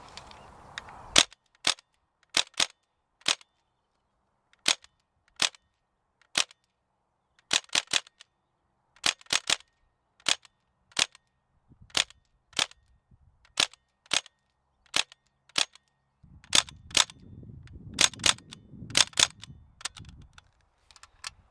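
Umarex Legends M1A1 Thompson BB gun firing semi-automatic shots one at a time, loud sharp cracks in irregular pairs and singles, close by with silence between, and a brief rattle of handling noise near the end.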